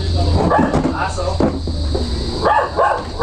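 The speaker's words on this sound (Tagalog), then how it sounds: "Aso." A dog barks and yips a few times up close, mixed with people talking nearby and some household clatter.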